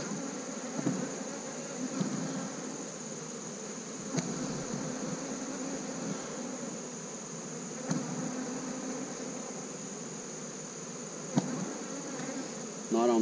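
Honeybees buzz steadily at an open hive frame with thin brood-area honey, a dense close insect drone running throughout with a few faint knocks of frame handling.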